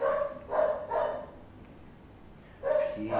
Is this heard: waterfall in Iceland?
no